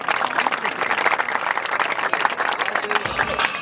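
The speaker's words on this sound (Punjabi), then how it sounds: "ਤੇ ਇੱਕ ਤਾੜੀ ਮਾਰ ਦਿਓ ਸਾਡੇ ਵਾਸਤੇ।" A crowd at a pigeon racing trophy ceremony gives a sustained round of applause, dense and fairly close, with a brief tonal sound near the end.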